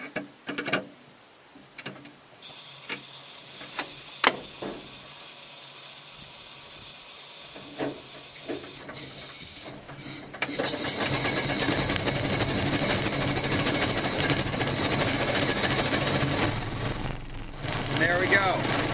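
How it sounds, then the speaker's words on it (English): A 1926 Ford Model T Tudor engine starting after the ignition is switched on: faint ticks and clicks with voices at first, then partway through the engine catches and settles into a steady, hissing, chuffing run. "Now I'm going to turn on the ignition."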